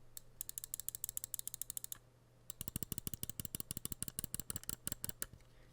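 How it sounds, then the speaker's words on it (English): Sharp mouse button clicks, a fast run of crisp taps followed after a short pause by a longer series of heavier, slightly deeper clicks, close and alone over a faint steady hum. "Right and left click."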